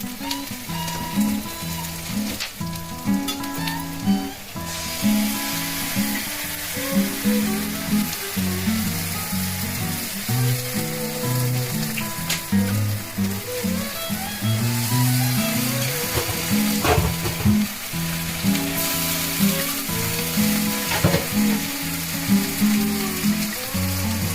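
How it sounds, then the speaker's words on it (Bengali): Ground spice paste for a mutton curry sizzles loudly in hot oil, a continuous close fry with scattered scraping and stirring throughout. "পুরো সব দিয়ে যে মশলাটা আমি বেটে রেখে দিয়েছিলাম, এই মশলাটা আমি দিয়ে দিই"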